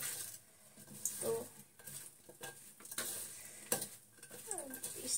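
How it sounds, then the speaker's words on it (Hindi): Pakora batter mixed by hand in a bowl, giving soft, wet squelching and stirring sounds in irregular bursts, close and fairly quiet, with occasional light clinks of utensils. "मिक्स पहले मैं ऐसे ही करूँगी, हाथ से ही करूँगी"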